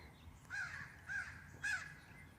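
Crows near backyard bird feeders give three loud, harsh caws spaced about half a second apart, each one sharp and close, over a quiet outdoor background.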